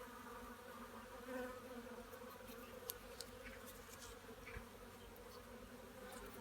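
Honey bees hum steadily around an opened hive during an inspection, a continuous layered drone close by with a few faint clicks and knocks from handling the frames.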